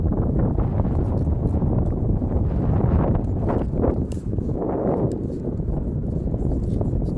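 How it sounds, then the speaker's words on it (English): Steady, loud wind buffets the microphone outdoors, a continuous low roar with gusts rising and falling throughout. "But it's windy out here"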